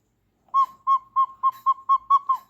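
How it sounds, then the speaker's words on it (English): Bakelite Lux cuckoo clock bellows sounding a high note with the hole released, eight short hooting toots in a steady rhythm, close and clear with nothing else underneath. "Release the hole, high note bellow."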